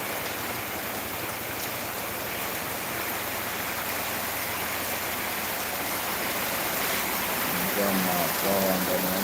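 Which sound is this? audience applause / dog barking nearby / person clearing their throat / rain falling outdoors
rain falling outdoors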